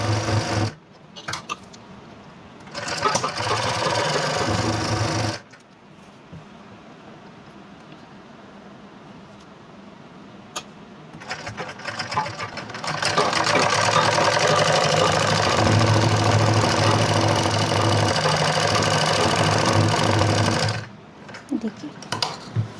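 A sewing machine stitches a folded shirt collar on a stylish coat-collar girls' shirt, running in several loud sustained bursts of rapid needle hum separated by brief pauses, with a long steady run near the end.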